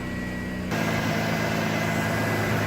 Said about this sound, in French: Le moteur a démarré correctement.